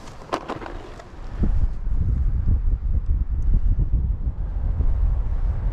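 Gusty wind blows outdoors beside Otter Creek during trout fishing, a steady low rumble buffeting the microphone after a quieter opening second with a few light knocks, continuing loud without speech.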